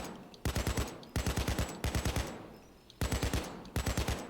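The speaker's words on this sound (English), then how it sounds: "AK sorts them out pretty quick and fast" An AK assault rifle fires in the video game Payday 2 in five loud, fast automatic bursts separated by short pauses.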